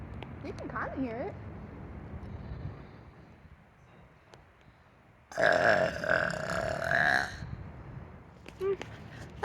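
A long, loud burp lasting about two seconds, let out beside a moat in a public park, following some quieter talk and light wind noise outdoors.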